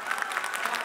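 Short burst of steady applause from an audience at a Chinese community New Year gala in Chicago, a dense patter of clapping with no voices over it.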